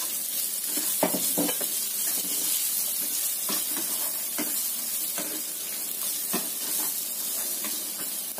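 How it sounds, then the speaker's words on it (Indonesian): Steady sizzling of food frying in oil, with occasional scraping stirs and soft crackles, close by and without talk. "Kita goreng sampai layu, sedikit layu ya."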